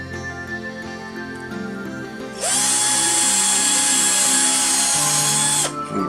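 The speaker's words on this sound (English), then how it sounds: "Drill it right through." A power drill bores through 1 mm by 1 mm stripwood, a steady high whine starting suddenly after quiet room tone and holding for about three seconds before cutting off.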